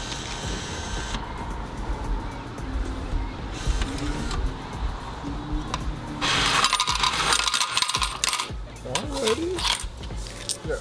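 Coins drop out of a change machine with a mechanical whir, then rattle and clatter into a tray in a loud bright burst. A voice speaks nearby and close rustling handling noises surround it.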